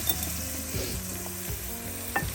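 Soaked rice sizzles and fries steadily in two tablespoons of hot olive oil, with a continuous crackling hiss and faint scraping as it is stirred.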